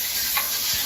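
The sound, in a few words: paprika frying in sofrito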